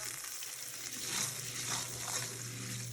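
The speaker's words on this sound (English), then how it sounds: "I'm just giving it a hand stir." Risotto with pork sausage is hand-stirred in a sizzling pan, a steady frying hiss with soft scraping swirls of the spoon, close and continuous with no talking.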